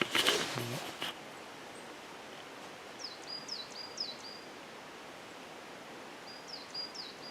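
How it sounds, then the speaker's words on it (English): Short chirping bird calls in a Cairngorm pine forest, faint and distant, coming in two small bursts over steady wind-like background hiss after a brief loud rustle at the start. "Did I hear birds though?"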